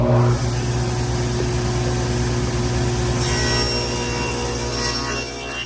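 A power saw cuts through a plywood board on a second pass along the fence, a loud sustained whine with a steady motor drone that shifts in tone partway through the cut.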